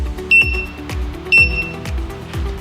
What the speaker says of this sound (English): Those extra beeps are fine, it's just because it's in transport mode.